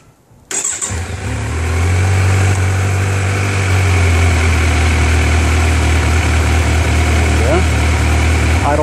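A Kawasaki Z900 motorcycle engine at 600 miles starts up and settles into a steady, loud idle, with a deep even rumble held close to the bike for several seconds.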